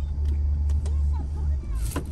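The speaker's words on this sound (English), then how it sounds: "Sobrang traffic talaga" Cars rumble and idle in heavy road traffic, a loud low engine drone filling the scene with brief clicks and a faint voice passing by.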